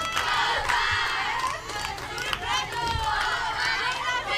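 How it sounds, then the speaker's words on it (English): Loud crowd and softball dugouts cheering and shouting continuously at a Senior League Softball game, a dense wash of many excited voices with rising yells throughout. "You can tell with how loud these dugouts are, the crowd, that they have been waiting all day"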